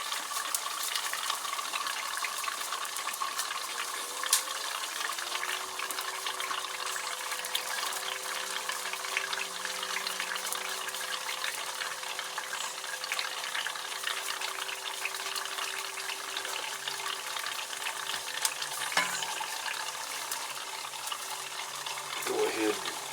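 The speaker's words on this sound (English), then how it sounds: "And it is spraying a little bit of Ln2, not terribly bad" Liquid nitrogen hissing and spraying through a water-cooled RAM loop, a steady broadband rush with bubbling and sizzling that runs continuously for the whole stretch, quiet and close.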